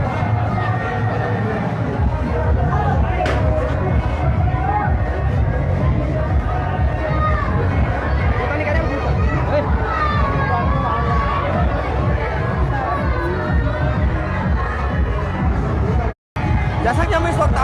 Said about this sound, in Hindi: आप देख सकते हैं किस कदर भीड़ है यहाँ पर।